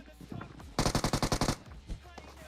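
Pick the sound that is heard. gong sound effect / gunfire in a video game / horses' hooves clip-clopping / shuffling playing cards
gunfire in a video game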